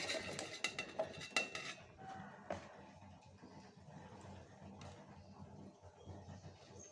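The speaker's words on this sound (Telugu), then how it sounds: "వీటిని మిక్సీ జార్లోకి వేస్తున్నాను" Peeled garlic, chopped onions and other ingredients clatter into a mixie jar, a quick run of close metallic knocks and clinks at first, then sparser taps and soft rustles at low volume.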